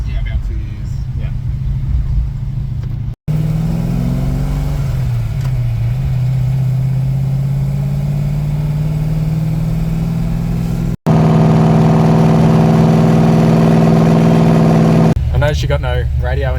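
Engine of a stroked and cammed Ford XA GT Falcon, a deep loud idle with a lumpy note that rises in revs at points, heard in several cuts with people talking over it.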